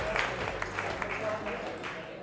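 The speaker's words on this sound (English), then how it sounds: "Give yourselves a round of applause." A live audience at a men's gathering claps in a steady, dense round of applause that fills the room at moderate level throughout, with voices audible beneath.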